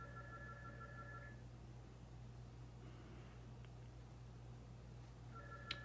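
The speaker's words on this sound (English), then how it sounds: "You can probably hear that, but that's the phone ringing." A household phone rings faintly in the background during a quiet hand-stitching session, two short tonal rings separated by several seconds over steady low hum, with no talk.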